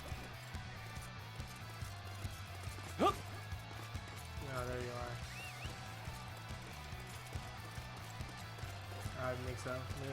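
Horse hooves clip-clop at a steady galloping rhythm in the Dynasty Warriors 9 video game, faint and continuous beneath battle effects, with someone talking over it.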